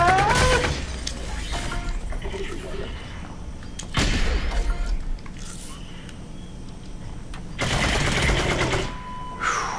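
Virtual-reality game gunfire cracks out in rapid bursts among clatter and impacts, with a player's voice talking over the action.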